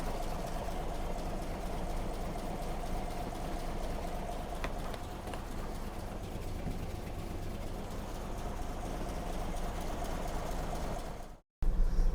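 A Toyota FJ40 idles with its hood open after a coolant loss and a new temperature sensor. The engine gives a steady, unbroken low rumble close by, and it cuts out briefly near the end.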